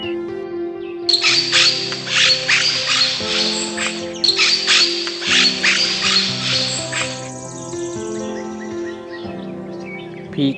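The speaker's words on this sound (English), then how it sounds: "Sun conure." A sun conure gives shrill, rapid calls in two long, loud bursts, followed by quieter calling over steady background music.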